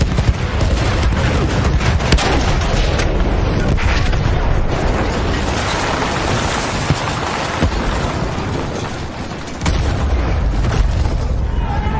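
Artillery fire in the video game Through the Mud and the Blood, a dense, loud, continuous barrage of booms and rumbling blasts that blur into a constant roar, with a sharper impact near the end.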